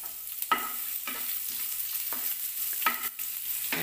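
Chopped onion sautéing in a pan for a Kerala-style black chickpea curry, with soft frying sizzle and repeated scraping stirs of a spoon every second or so, close and moderately loud, no voices.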